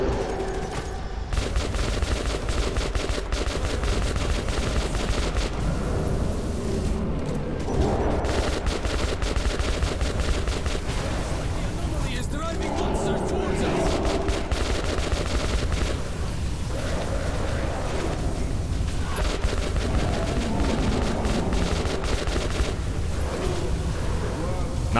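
Sustained bursts of gunfire ring out through a Metro 2033 firefight, loud and continuous across the whole stretch, with shouting voices breaking in over the shooting.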